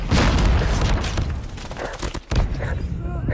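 Heavy, rumbling blasts and crackling gunfire fill a noisy battle scene in the Call of Duty Mobile video game, with a frag grenade explosion booming amid dense, continuous shooting close by.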